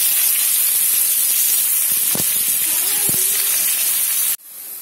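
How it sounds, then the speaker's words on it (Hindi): Onions with spices fry in hot oil, a loud, dense sizzling hiss that runs steadily for several seconds, marked by a couple of brief clinks, then cuts off abruptly near the end. "पहले प्याज डालेंगे, प्याज भून लेंगे"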